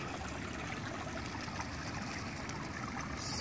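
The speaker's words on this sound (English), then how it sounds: "This is a creek" Creek water streams and trickles steadily near a lake, a continuous broadband rush with no voices.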